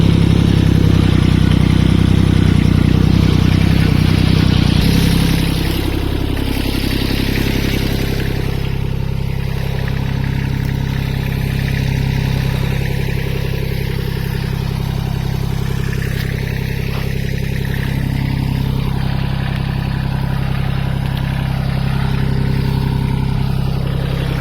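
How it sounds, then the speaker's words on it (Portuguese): A rotary tiller churns farm soil on a Portuguese homestead, preparing ground for lettuce planting; its engine runs loud and close with a steady mechanical drone and clatter, dipping slightly after the first few seconds, with no talking. "Agora vou passar a frese e preparar a terra que é para depois levar as alfaces"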